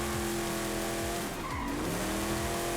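Car tires squeal and skid as a costly drift-built car slides around in the Forza racing game, with the engine revving underneath in rising and falling sweeps, loud and continuous.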